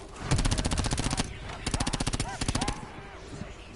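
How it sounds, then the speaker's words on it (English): Rapid video game sniper rifle fire rings out in two dense bursts of loud, evenly spaced shots, each running a little over a second with a short gap between, then fades to a quiet tail. "Ah, the sniper rifle."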